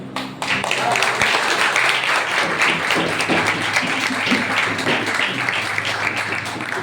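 A church congregation at a Sunday sermon bursts into dense, sustained applause that holds at an even level throughout, with a low hum underneath.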